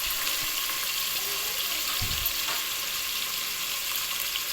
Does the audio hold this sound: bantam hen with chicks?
no